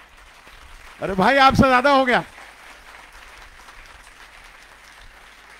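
A church congregation claps together in one loud burst of about a second, then falls quiet. A voice speaks just after.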